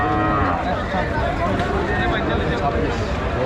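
Cattle low amid the chatter of the busy new Pashuhati livestock market, where cows, including a Sahiwal, are bought ahead of Qurbani, the moos rising over constant nearby talk and crowd noise.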